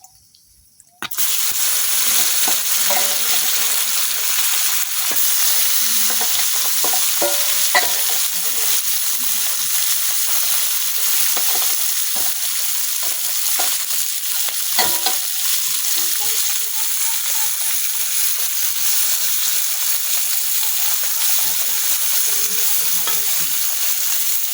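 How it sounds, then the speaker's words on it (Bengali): Small puti fish sizzle and crackle loudly in hot oil in a wok, a steady dense frying hiss that starts abruptly and continues throughout with scattered pops and faint stirring. "এখন বাকি যে মাছগুলো আছে ওগুলো কড়াই দিয়ে দিলাম।"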